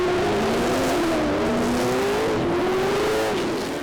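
V8 touring cars racing at Winton, a loud continuous engine roar with a rising and falling drone as the cars pass and shift, no talking.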